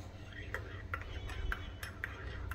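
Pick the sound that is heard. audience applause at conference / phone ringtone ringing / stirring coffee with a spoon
stirring coffee with a spoon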